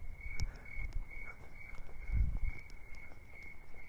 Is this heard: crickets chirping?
yes